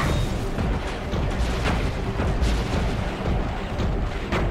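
Weapons cache exploding in the Iron Man video game on PS3, a dense, continuous rumble of booms and blasts at close range, loud and unbroken, with no talking.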